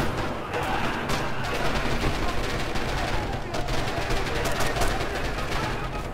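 Dense battlefield gunfire in the video game Red Orchestra 2, with continuous overlapping rifle and machine-gun shots at varying distances forming a steady, loud barrage throughout.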